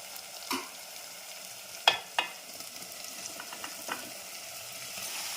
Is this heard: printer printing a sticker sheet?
no